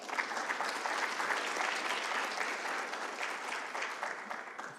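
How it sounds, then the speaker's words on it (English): An audience applauds three panelists after a climate and cleanup discussion, a steady room-filling wash of clapping from many people lasting several seconds before slightly fading. "Can we get another round of applause?"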